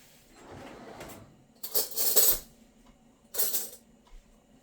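A drawer is pulled open and cutlery rattles as a spoon is fetched in a home kitchen, two short bright metallic bursts separated by a quiet gap.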